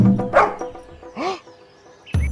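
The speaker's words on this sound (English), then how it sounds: "Let me growl, snarl, and bark at them." A cartoon dog in a children's bedtime story barks in short, loud bursts with a yelping, whimpering quality. The bursts are spaced irregularly across a couple of seconds and heard close up.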